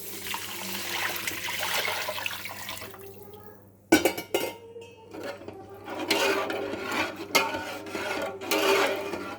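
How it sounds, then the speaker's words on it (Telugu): Water poured from a glass into rice in a cooking pot for pulao, a rushing, splashing pour that stops abruptly, then a jolt and more sloshing water with clatter from the vessel. "ఈ నీళ్ళు ఇప్పుడు దీంట్లో పోసుకుందాం"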